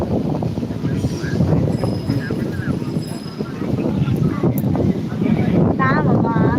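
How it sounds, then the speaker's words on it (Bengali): Trawler boats pass along a river near Taki, a low rumbling engine drone buried under heavy wind buffeting on the microphone, with voices talking nearby. "এগুলোকে ট্রলার বলে"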